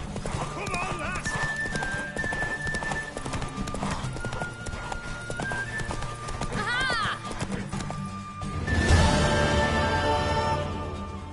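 A horse gallops with rapid, rhythmic hoofbeats, close and loud, and lets out a high whinny partway through; a burst of louder commotion near the end, with voices speaking over the action.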